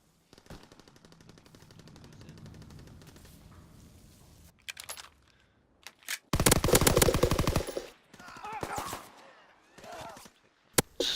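Bursts of automatic gunfire and single shots in a World War II video game ranked match, loud rapid volleys in the middle and scattered shots later, with players talking earlier.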